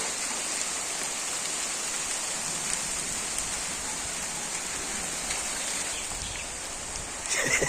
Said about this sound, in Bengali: এখন বৃষ্টি শুরু হয়ে গেছে